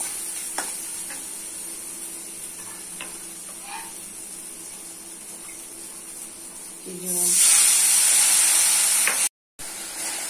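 Mustard paste hitting a hot pan with ground spices and salt for a ridge gourd, potato and egg curry: quiet low kitchen noise at first, then a sudden loud, steady sizzling hiss lasting about two seconds before cutting off.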